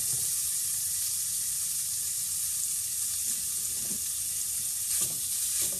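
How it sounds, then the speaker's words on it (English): Bacon frying in a very hot pan, a dense, even hiss and sizzle that holds steady throughout, with a couple of faint clicks from the pan. "My pan is really hot, so I'm gonna fry up the bacon."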